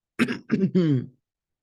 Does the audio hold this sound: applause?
no